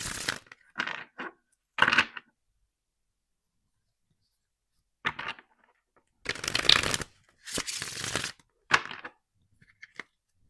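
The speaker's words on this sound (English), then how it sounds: "I will be shuffling directly today." Several bursts of tarot cards being shuffled, crisp riffling and flicking, close by, separated by short pauses, with no talking.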